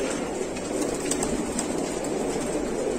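Banarasi and Allahabadi pigeons in cages at a pigeon sale, a dense steady bed of overlapping coos and rustling that goes on without pause, with no voices over it.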